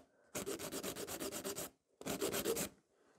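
A nail file works fiber gel nails into a coffin shape with rapid back-and-forth rasping strokes, one long burst of about a dozen strokes, a short pause, then a second shorter burst, close and alone.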